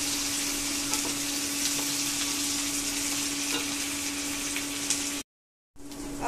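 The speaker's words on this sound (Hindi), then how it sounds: "अब थोड़े से भून चुके हैं" Vegetables and onion frying for namkeen semiya, a steady crackling sizzle with soft stirring scrapes, close and continuous with no talk, cutting out abruptly near the end before resuming briefly.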